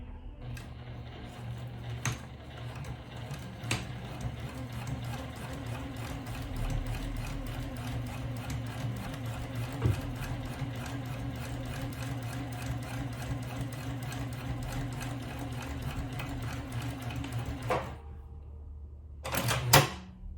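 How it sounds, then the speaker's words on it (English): A sewing machine top stitches across a small fabric purse in one long, steady, whirring run that cuts off near the end, followed by a brief clatter, with no talk. "I'm going to start to top stitch here across"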